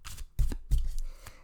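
Tarot cards being shuffled by hand, three quick riffling bursts close by with short gaps between, no voices.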